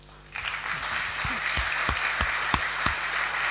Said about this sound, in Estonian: siin oleks kohane teha üks suur aplaus kõigile Eesti ettevõtjatele